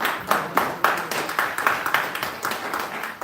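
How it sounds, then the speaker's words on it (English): A small group at a village board of trustees meeting gives a short round of applause, individual claps audible in an uneven, modest patter that trails off. "Round of applause for just showing that."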